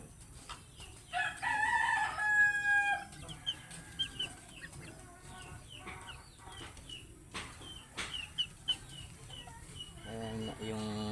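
A stag gamecock crows close by in a loud drawn-out call, followed by scattered clucks and short chirps from other fowl, with a brief burst of rustling at the end.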